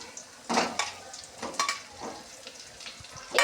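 Chillies land in a hot frying pan and are stirred, giving several close, irregular scraping bursts over a soft sizzle.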